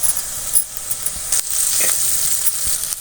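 Curry leaves sizzle and crackle in hot oil alongside cooking ivy gourd for a kovakkai gravy, a steady close frying hiss with occasional sharper pops and stirring, no talking.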